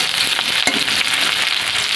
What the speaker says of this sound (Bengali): ভালো করে একটু লাল লাল করে ভেজে নেবো পেঁয়াজটাকে